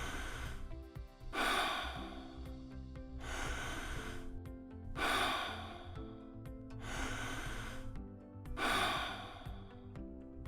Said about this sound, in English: first relax, then breathe in and out deeply 3 times.